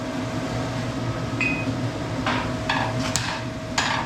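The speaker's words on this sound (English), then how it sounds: "Back to the drift and a slightly smaller hammer" A smaller hammer strikes an axe eye over a drift at a forge, reshaping the metal with a handful of sharp, ringing blows spaced irregularly over a steady low hum of shop background noise.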